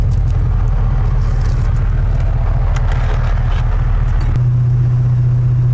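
A 1973 Chevrolet C10 pickup with an LS engine swap drones steadily under load driving uphill, loud and close, with a low rumbling hum that shifts pitch near the end.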